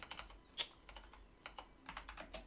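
Irregular clicks of a computer keyboard as someone types a chat message into an Emergency Hamburg game server, with short bursts of keystrokes and brief pauses. The clicks are fairly faint and close, with no voice.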